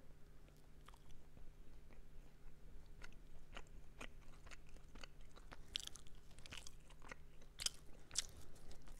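Someone quietly eats a dry, sugar-free brownie, close to the microphone: soft crunching bites and chewing come in irregular bursts, growing a little sharper and more frequent toward the end against a faint background hum.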